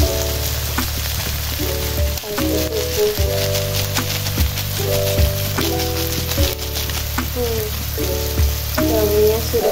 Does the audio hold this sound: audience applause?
no